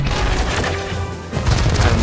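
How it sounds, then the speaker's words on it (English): Rocket ability explosions in the Transformers Earth Wars video game land as dense, loud booming blasts. They rumble continuously, ease briefly near the middle, then swell again with heavy low thuds. "our first ability will be the rockets"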